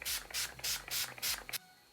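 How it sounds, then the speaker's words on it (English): Urban Decay All Nighter setting spray misted onto a face: five quick pump bursts in a steady rhythm, each a close, loud airy hiss, followed by quiet. "I'm using the Urban Decay All Nighter"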